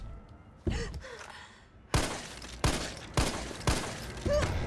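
Gunshots fired at the Nemesis in the Resident Evil 3 video game, a run of sharp, loud cracks spaced about half a second apart, following a few quieter thumps.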